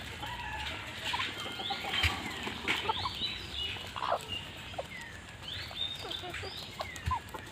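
Local chickens and turkeys feeding on sandalwood leaves on a farm in Assam cluck and call in short, scattered bursts, with some wing flaps over a quiet outdoor background.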